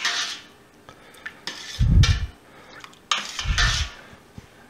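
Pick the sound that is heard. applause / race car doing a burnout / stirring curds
stirring curds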